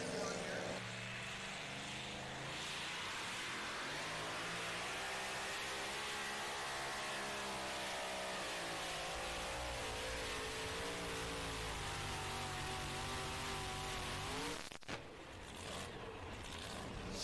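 Blower-equipped pulling tractor engines roar at high revs during a Pro Pulling event in Hillsboro, Wisconsin, a loud sustained drone with shifting pitch that drops off sharply near the end, with voices under it.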